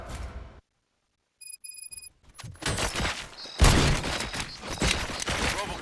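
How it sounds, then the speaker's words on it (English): Gunfire in the video game RoboCop: Rogue City, a burst of rapid shots erupting after a short silence and electronic beeps, loud and dense, continuing in heavy bursts to the end. "Gunshots? What's going on?"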